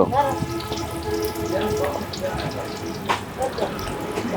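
Oil and onions sizzling in a large pot for beef bhuna at a roadside food stall: a steady, crackling hiss under a busy background with faint voices and clinks.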